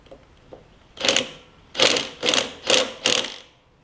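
A 7/16 wrench tightening a bolt on a Tecumseh OHV engine of a Craftsman push mower, heard as a faint tap followed by five quick, close metallic ratcheting clicks in a steady rhythm.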